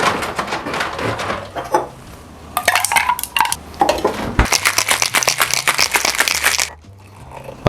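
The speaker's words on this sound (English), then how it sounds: "And you shake this with ice." A cocktail of grenadine and liqueur is shaken with ice in a shaker, loud rapid rattling bursts of ice against metal, a short pause, then a longer vigorous run of shaking before it stops.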